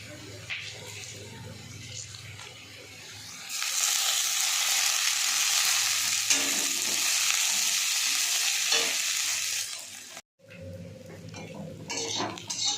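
Radish leaves with onion and chilli fry in a pan with a loud, steady sizzle after a quieter stretch of utensil scraping and stirring, then a brief pause and renewed clatter.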